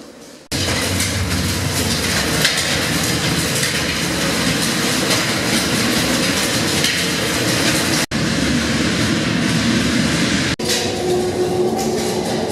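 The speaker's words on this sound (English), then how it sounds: "There goes the train." A train passing near Clapham North in London, a loud, steady rumble with rail clatter that starts abruptly and continues for over ten seconds, with two brief dips near the end.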